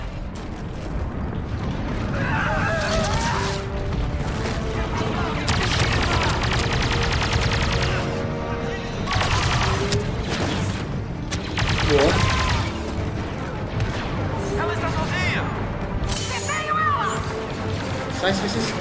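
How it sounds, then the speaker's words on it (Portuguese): Rapid bursts of Star Wars Battlefront 2 gunfire rattle repeatedly alongside mechanical clanks, while people talk over the shooting. "Tá tomando tiro nas costas, velho."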